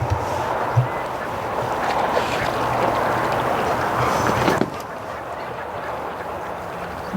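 Ducks quack from a small aluminum boat on the water, intermittent calls over a steady rushing noise that cuts off abruptly partway through, leaving a quieter background.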